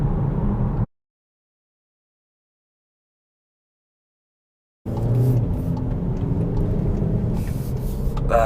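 A SEAT Ateca 2.0 TDI SUV driving, a steady low road and engine hum heard from inside the cabin, interrupted by a gap of silence before resuming at an even level.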